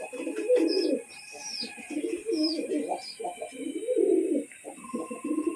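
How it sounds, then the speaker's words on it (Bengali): A pigeon coos in repeated low, throaty bursts while feeding its chick indoors, the soft calls pulsing close by with brief chirps and faint high squeaks between them. "আপনারা দেখুন কিভাবে একটা পায়রা তার বাচ্চাকে খাবার খাওয়ায়"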